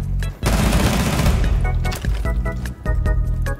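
Rainbow Six Siege pistol fire: a loud, close, rapid volley of gunshots followed by several more separate shot bursts in quick succession.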